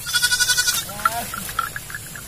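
A goat owned by a neighbor bleats on a steep, grassy, thorny hillside, with a rapid wavering cry up close at the start, then quieter bleats and rustling as someone moves nearby.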